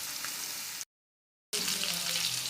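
Bitter gourd pieces frying in hot oil, a steady close sizzle and crackle that breaks off into a short silence before resuming just as busy.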